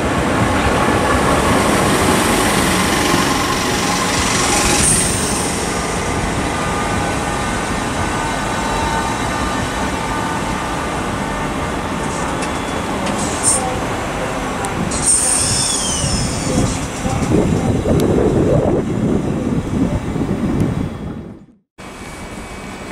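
A Class 465 electric multiple unit, number 465-161, rolls past at Sevenoaks on the South Eastern Main Line, a steady loud rumble of wheels on rail with faint squeals and clatter, fading abruptly near the end.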